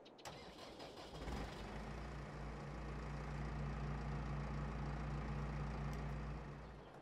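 A New Holland T6 tractor engine in Farming Simulator 22 starts up and settles into a steady, close idle with a deep, even hum that fades slightly at the end.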